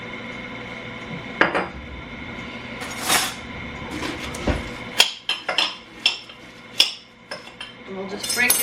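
Dried shredded zucchini broken up inside a glass mason jar, heard as a string of sharp glassy knocks and rattles, close and irregular, growing busier toward the end, with no voices.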